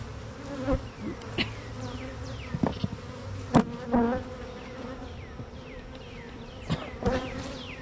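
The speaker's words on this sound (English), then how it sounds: "Lots of packed bees." Dense, steady buzzing of many honey bees close by, with individual bees droning past in brief louder swells over the constant hum.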